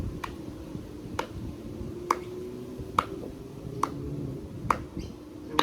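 A teacher claps a slow, steady beat for a children's dance exercise. Sharp single claps repeat roughly once per second over a quiet hum, with no talking.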